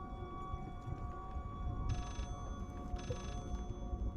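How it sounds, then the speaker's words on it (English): Telephone ringing in the Layers of Fear horror game, two short bursts of a bell-like ring about a second apart over a low, droning ambient hum. "I don't want to miss the phone call."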